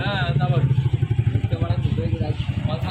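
A launch boat passing on the Ganges river gives a steady, close engine drone with a rhythmic chug, under someone talking.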